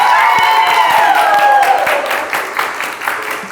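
Studio audience applause on a Brazilian TV talk show, dense clapping mixed with crowd noise and shouting that begins loud and gradually thins over a few seconds.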